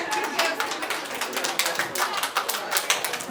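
Pupils and guests at a Montessori school event in Arepo, Ogun State, give a brief burst of scattered hand clapping, fairly close and steady for a few seconds.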